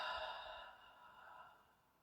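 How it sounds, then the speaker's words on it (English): A single slow human exhale, soft and breathy, tapering off over about two seconds during a calm relaxation exercise, close and quiet. "Exhale."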